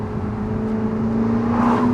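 An Audi R8 exhaust revs with a loud, steady droning roar, close and continuous for a couple of seconds with a slight rise in pitch near the end.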